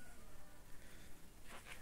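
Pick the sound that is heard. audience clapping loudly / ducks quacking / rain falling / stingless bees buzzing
stingless bees buzzing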